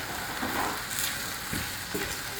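Ground beef and onion fry steadily in a pan with a dense, continuous sizzle while a utensil mashes the meat, adding soft intermittent scraping pulses throughout.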